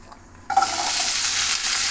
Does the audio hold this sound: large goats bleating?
no